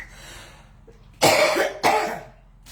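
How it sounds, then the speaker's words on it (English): Two harsh, loud coughs close to the microphone, the second following about half a second after the first, against a quiet background. "I wondered if I was going to start coughing"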